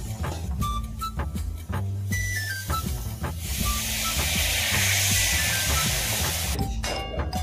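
Potatoes dropped into spices frying in oil in a pan for aloo posto, giving a steady loud hiss and sizzle after a few clinks of utensils, close and without talk.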